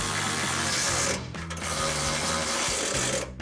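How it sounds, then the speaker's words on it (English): Ratchet with a 13mm socket tightening running board bolts on a 2024-2025 Toyota Tacoma, giving a dense, continuous mechanical clicking that is loud and close, with a short pause midway. "So now we can just tighten these down, grab our ratchet, 13mm socket."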